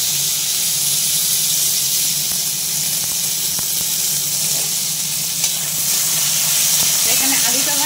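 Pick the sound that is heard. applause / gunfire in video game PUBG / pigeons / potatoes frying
potatoes frying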